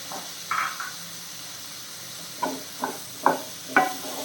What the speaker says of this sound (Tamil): இது கூட வந்து நாம் கட் பண்ணி வச்சுக்கூடிய பீர்க்கங்காய் சேர்த்துடலாம் சேர்த்து கொஞ்சம் வதக்கி விட்டுருவோம்